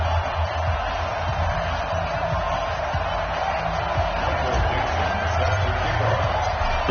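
Stadium crowd noise from a Madden 20 NFL football game between the Seattle Seahawks and Dallas Cowboys, a steady, dense roar of cheering spectators that holds at an even level throughout without a break.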